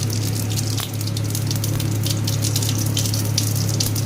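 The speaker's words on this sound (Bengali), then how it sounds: "তেল গরম হয়ে গিয়েছে, দিয়ে দেব জিরে ফোড়ন" Cumin seeds dropped into hot oil for a Bengali green pea curry, giving a steady, loud, continuous sizzle with a low hum underneath and crackling bursts throughout, no voices.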